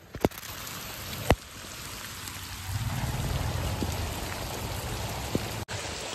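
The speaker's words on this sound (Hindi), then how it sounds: "ये धीरे धीरे आगे बढ़ रही है बारिश।" Steady rain hisses and patters nearby, building slightly, with a few sharp drips and knocks standing out; no one speaks.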